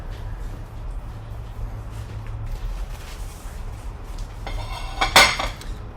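Cooked, lightly browned asparagus spears set down onto a plate, giving a few soft clinks of cutlery against the dish near the end over a quiet low kitchen hum.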